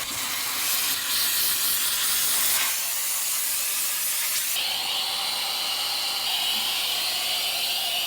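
An iK E Foam Pro 2 foam nozzle on gentle low-pressure bypass mode sprays over a wired logging crane, giving a continuous close hissing rush. The texture shifts slightly partway through but never stops.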